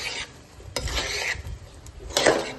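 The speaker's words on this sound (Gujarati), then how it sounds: "હવે નાખી દઈશું આપણે સોયાવડી અને આને પણ આપણે સરસ મિક્સ કરી લઈશું મેં ગેસને ફાસ્ટ જ રાખ્યો છે" Soya chunks and beetroot stirred in a pan over a high gas flame, giving soft intermittent scraping and rasping strokes with light sizzle, close and moderately quiet, without talk.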